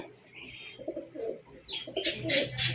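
A female pigeon coos softly up close in a few low, throaty rolls, followed by louder fluttering or rustling near the end.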